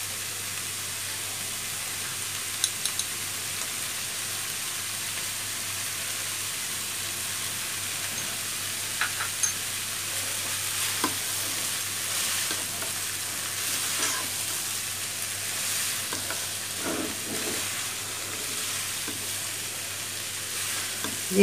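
Leftover rice is stirred in a frying pan, a long steady sizzle and hiss with occasional scrapes and taps of the spatula, moderately loud and continuous without talk.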